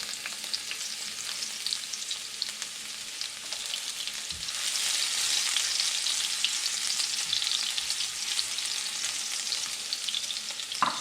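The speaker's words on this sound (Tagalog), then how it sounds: "Maggigisa tayo ng bawang at sibuyas. Unahin muna natin yung ating bawang." Garlic sautéing in hot oil in a pan, a steady close sizzle and crackle that swells partway through as it is stirred, with no voices.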